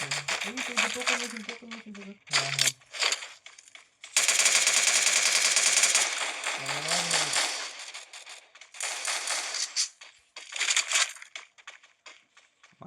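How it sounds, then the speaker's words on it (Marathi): Bursts of automatic gunfire from a battle royale video game come in rapid volleys of varying length, with a long sustained stretch in the middle, while players talk over the shooting. "बाहेरच्या साईडला फायरिंग चालू आहे"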